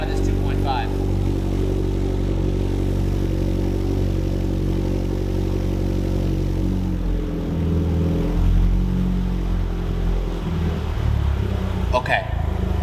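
Subaru BRZ 2.5-litre flat-four at cold start, holding a high fast idle with a steady loud droning rumble, then the revs settle lower toward a calmer idle near the end.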